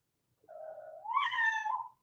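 An easygoing house cat gives a single clear, close meow that starts soft and rises into a louder, bright ending, with silence around it.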